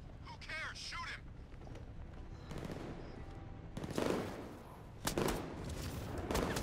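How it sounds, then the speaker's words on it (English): Gunfire in the video game Batman: Arkham Knight comes in scattered bursts and sharp cracks amid game noise, moderately loud, with short gaps between volleys and a character's voice heard early on. "I'm being shot by them."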